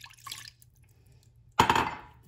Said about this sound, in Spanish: Vamos a poner el agua